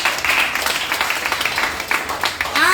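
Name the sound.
congregation applauding to acclaim God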